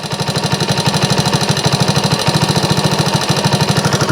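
A 1964 Honda CT90 motorcycle engine idles steadily, a fast even chugging putter with a raised idle, close and loud throughout with no talking.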